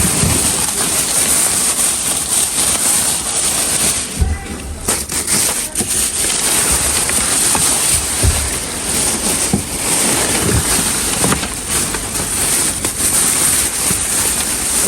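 Heavy rain pours in a loud, continuous wash, with occasional low thumps and rumbles underneath and no clear talking.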